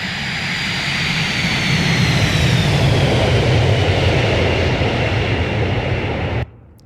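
Boeing 727 jet engines in the X-Plane flight simulator game, a loud steady roar with a slowly falling whine, sustained throughout before cutting off abruptly near the end.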